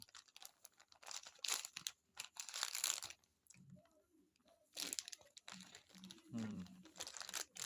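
Plastic packaging crinkles and crunches in irregular bursts of handling, interrupted by quiet gaps and a little speech in between.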